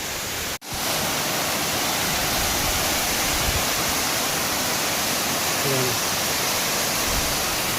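A large waterfall surrounded by fields pours out a loud, continuous roar of rushing water, broad and unbroken, after a short dropout at the very start.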